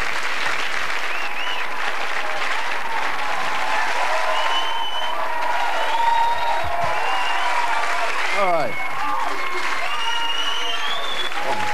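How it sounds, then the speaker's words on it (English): A television studio audience in 1993 gives a sustained, dense round of applause with some cheering, filling the room steadily for the whole stretch without a break. "Thank you for that thunderous round of applause there"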